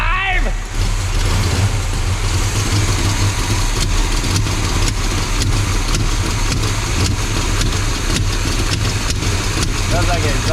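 The engine of a Chevy C20 truck, brought back to life after years in storage, idles steadily with a deep, rumbling low end and a ticking, puffing exhaust leak running throughout. It sits close and loud the whole time.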